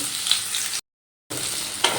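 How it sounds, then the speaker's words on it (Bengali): Banana stem pieces coated in cornflour and gram flour frying in hot oil, a loud close hiss of sizzling with light stirring clicks, broken by a brief silent gap midway. "উল্টে পাল্টে লাল লাল করে ভেজে নেব"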